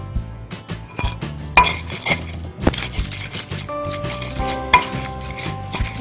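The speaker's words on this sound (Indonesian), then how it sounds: "Kita haluskan terlebih dahulu." Chili, salt, sugar and seasoning ground by hand in a mortar, irregular scraping, knocking and clinking strokes close by, with pauses between bursts and no talking.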